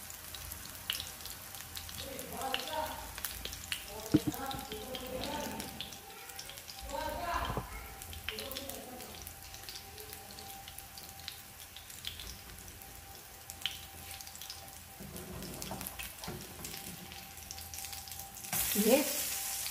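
Squash fritters (okoy na kalabasa) fry in a pan with a steady, close sizzle and crackle throughout, while a person talks over the cooking now and then.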